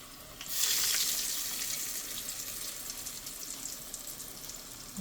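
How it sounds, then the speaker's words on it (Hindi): Potato pakoras drop into hot oil and burst into a loud, close sizzle that crackles brightly, then settles into a steady, softer frying hiss with scattered pops, no voices. "चलें जी, अपने पकोड़े थोड़े से फ्राई करते हैं।"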